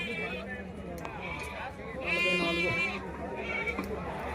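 Ongole Judipi rams bleat repeatedly at the Gudur livestock market, with several loud, wavering calls rising above the crowd's constant chatter and people talking nearby.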